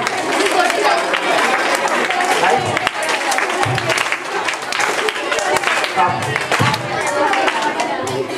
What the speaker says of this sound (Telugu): నేను చప్పట్లు కొట్టండి అన్న, అవునా? కానీ ఆపమని చెప్పలేదు కదా.